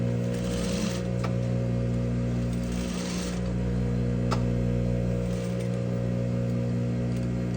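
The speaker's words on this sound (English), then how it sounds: "I'm gonna sew and I'm gonna end here and then I'm gonna backstitch" A sewing machine runs steadily while stitching and backstitching a jacket pocket, giving a continuous, close motor hum with an even whirr and only slight changes in speed.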